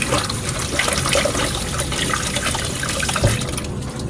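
Running water splashes steadily for a few seconds as food is quickly rinsed for a soup, close and continuous, with no talk.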